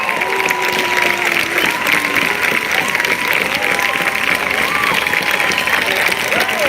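Crowd applause at a Black Lives Matter street protest on Higuera Street in San Luis Obispo, steady and sustained throughout with a loud wash of clapping, while voices and cheers rise over it.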